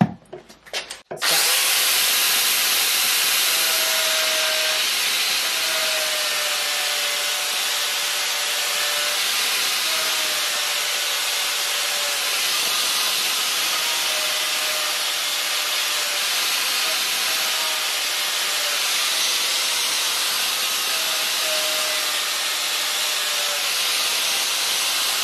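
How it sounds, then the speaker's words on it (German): A Flex angle grinder dresses the cutting face of a SABO sickle mower blade, giving a loud, continuous, steady high-pitched grinding whine that runs alone for about 25 seconds after a brief start. "dann gehe ich hier mit der Flex einfach rüber und schleife ganz vorsichtig die Fläche nach."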